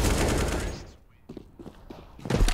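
Pistol fire in a Counter-Strike esports match, a dense burst of shots at first, then a quieter stretch of scattered shots before the firing picks up again, with a commentator talking over it.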